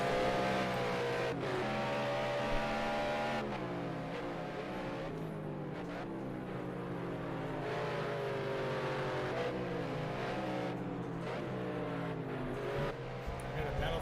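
Race cars in Project Cars 2 during an online league endurance race at the Red Bull Ring, engines droning and rising in pitch with gear changes. The steady, close engine noise continues throughout while a commentator talks over it.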